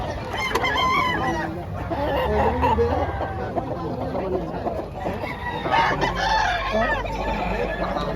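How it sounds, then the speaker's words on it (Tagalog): Several roosters crowing and chickens clucking close by, overlapping calls throughout, with scattered voices mixed in. "Mga manok dito."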